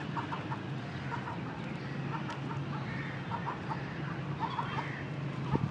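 Several chickens cluck and squawk in short bursts against a constant background rumble, fairly close, with no talking.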